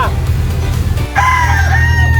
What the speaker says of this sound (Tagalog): Ayan yung mga manok niya.